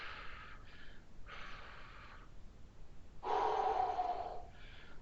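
Strong, forceful exhaling breaths during a full-body home workout, several breathy rushes of air in bursts, close and fairly quiet, the longest and loudest one about two-thirds of the way through.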